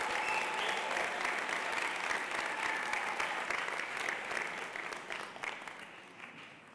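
Sustained applause from a graduation audience for the graduating class at Columbus North International School, dense and steady, tapering off gradually toward the end.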